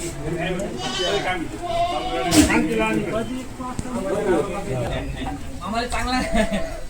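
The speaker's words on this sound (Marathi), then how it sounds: "हे बघा या दावणीला बांधलेल्या आहेत शेळ्या" Kathewadi goats tethered at a stall bleat repeatedly at close range, several animals calling over one another while people talk nearby.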